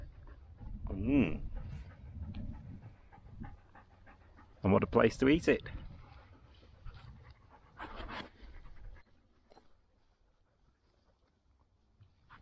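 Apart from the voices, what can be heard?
dogs panting and whimpering on a moor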